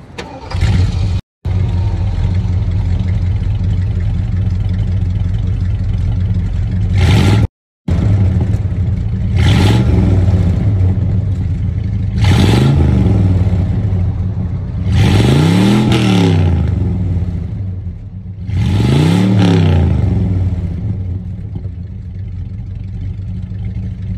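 1972 Ford LTD engine through dual exhaust tips, starting and then idling with a deep rumble, blipped through several loud revving bursts that rise and fall, recorded close.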